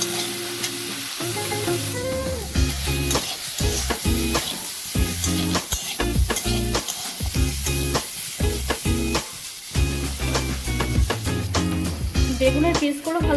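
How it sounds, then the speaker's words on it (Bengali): Eggplant pieces seasoned with turmeric frying in oil in a pan, a continuous sizzle broken by repeated scraping and clattering strokes as they are stirred, up close. "এরপর বেগুনগুলোকে ভালো করে নেড়ে আমি ভেজে নেব।"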